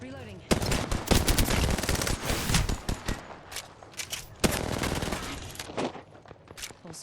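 In Apex Legends, close rapid-fire weapon bursts crack loudly in uneven volleys with short gaps between them, and a faint voice comes through briefly.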